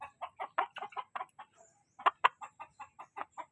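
Chickens clucking in a Philippine rural yard, a rapid series of short, fairly close clucks with a brief pause midway before the clucking resumes, with no talking.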